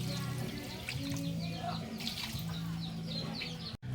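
Water poured into a cooking pot while preparing food, a soft continuous trickle and splash heard nearby under light background chatter and household sounds.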